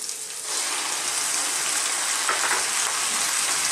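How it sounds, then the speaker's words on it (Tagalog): Cleaned fresh squid fries in a pan with onions, giving a loud, continuous sizzle that swells as the squid hits the hot oil and then holds steady. "Ngayon, isusunod na po natin yung ating nilinis na fresh squid."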